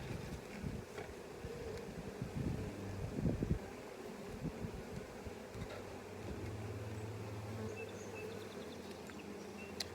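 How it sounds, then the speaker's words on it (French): Honeybees hum in an open hive during an inspection, a faint, steady buzzing drone close by with some brief handling noises and light wind. "Donc, les abeilles ont commencé à travailler."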